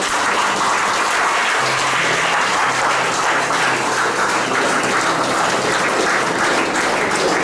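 A church congregation claps steadily and loudly in praise of God, with dense, continuous applause filling the room throughout.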